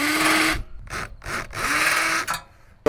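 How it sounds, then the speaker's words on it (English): A hammer drill bores into concrete in several bursts, loud rattling buzz starting and stopping with short pauses between, close by and without talk. "we're using what's called a hammer drill"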